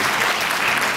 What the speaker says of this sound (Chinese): 掌声要大声一点